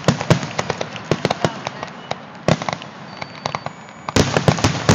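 Fireworks explode close by in a rapid, irregular barrage of sharp bangs and crackling pops, with a brief lull before a dense burst near the end.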